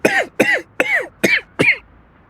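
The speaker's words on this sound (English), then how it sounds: "you should really see a doctor if that cough continues" Five close, loud coughs come in quick succession, evenly spaced about half a second apart, followed by a short pause and a faint start of another. No one speaks.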